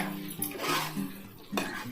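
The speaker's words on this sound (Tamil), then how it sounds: "இப்போ நம்ம உருளைக்கிழங்கு இதில் போட்டுருவோம்" Potato pieces tipped into a pot of chicken for Kolkata-style aloo chicken biryani, producing a few clattering knocks and scraping metallic clinks of utensil against the pot, close and moderately loud.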